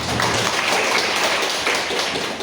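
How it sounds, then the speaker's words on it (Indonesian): Classmates applaud together in a classroom lesson: a steady, dense wash of many hands clapping at once, close and fairly loud, holding for a couple of seconds with no talk over it. "kita beri tepuk tangan dulu ya buat teman-teman"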